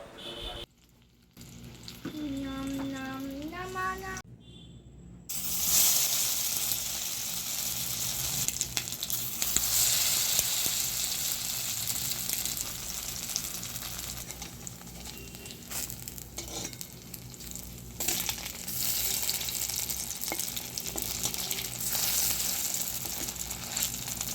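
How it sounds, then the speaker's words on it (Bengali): Boiled egg fritters dipped in thin cornflour batter frying in hot oil, a loud, steady, close crackling sizzle that runs throughout after a brief quieter opening, with occasional stirring and a short tonal sound near the start. "ডিমের এই বড়াগুলো ভাজার আগে কর্নফ্লাওয়ারের একটা পাতলা গোলায় ভালো করে ডুবিয়ে নিয়ে ভাজতে হবে"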